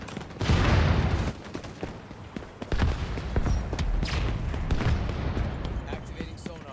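A frag grenade thrown and detonating in the online shooter XDefiant: one loud, heavy blast, followed by scattered gunfire and battle noise, with a voice speaking over the action.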